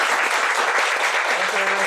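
An audience claps to welcome a lecturer at an ultralight hiking talk on outdoor stoves, with dense, steady applause filling the whole short moment.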